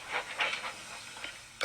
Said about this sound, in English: Edward picked up steam and proudly puffed past Spencer.